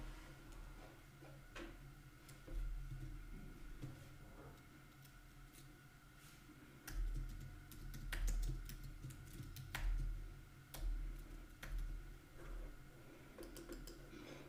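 Sparse, quiet keystrokes on a computer keyboard while a name is entered during iOS app setup, with irregular single clicks and short clusters over a low steady background hum.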